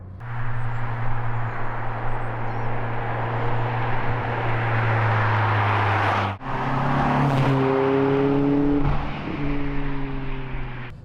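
Peugeot 206 RC driving on the road, a steady engine drone with road and wind roar filling the cabin, a brief dip before the engine note climbs again through rising tones.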